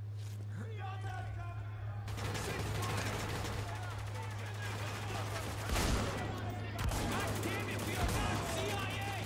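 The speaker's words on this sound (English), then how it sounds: "Now open fire!" Dense, continuous gunfire and machine-gun bursts fill a battle in Spec Ops: The Line, with voices shouting over the steady crackle of shots.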